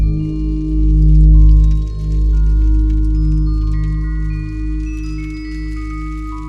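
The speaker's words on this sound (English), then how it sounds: "those wind chimes are beautifully captured and put in here" Wind chime sample from the Soniccouture Haunted Spaces 2 sound library, bright metallic tones ringing and overlapping over a low sustained drone, steady and fairly loud with no voices.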